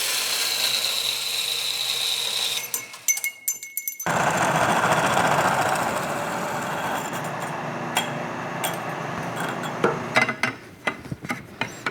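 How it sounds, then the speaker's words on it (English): A hole saw in a milling machine cuts a miter into a bicycle seat tube: a high whine first, then a grinding, chattering cut with sharp intermittent clunks. "because we've got the hole saw all set up in the mill, is we'll miter the seat tube now"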